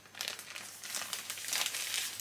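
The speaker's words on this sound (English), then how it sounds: "I got these plastic bags" Thin plastic bags crinkle and rustle as they are handled up close, a steady crackling that swells and fades in quick bursts, quiet and without voices.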